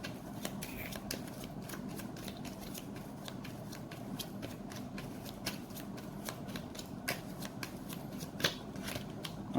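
A deck of cards being shuffled close up, quiet rapid riffling bursts repeating in a steady rhythm with no talking.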